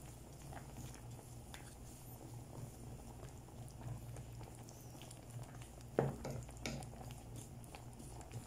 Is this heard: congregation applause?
no